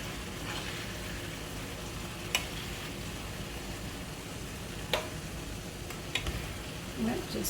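Food sizzles steadily in a hot pan while being basted, a soft continuous frying hiss with a few sharp clicks of a utensil against the pan, and a voice speaking faintly over it.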